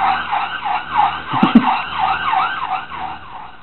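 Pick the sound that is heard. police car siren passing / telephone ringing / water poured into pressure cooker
police car siren passing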